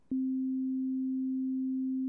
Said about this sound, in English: we're going to just hear a pure sine wave.